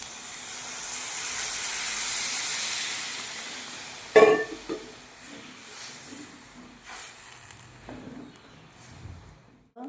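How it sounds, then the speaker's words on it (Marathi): Matar paneer curry with water added hisses steadily in the pan as it comes to a boil, then a sharper burst of sizzling and bubbling breaks in partway through, close and fairly loud. "भाजीला उकळी आलेली आहे"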